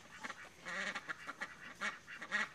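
A duck, likely a female kept on a homestead farm, quacks in a string of nasal calls, fairly close and clear with no talk over it.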